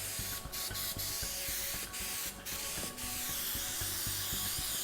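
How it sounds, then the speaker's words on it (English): 3M 77 spray adhesive hissing from an aerosol can onto a model scenery base, several short bursts over a steady background hum, near and fairly loud. "So what I like to do is take a little bit of spray adhesive."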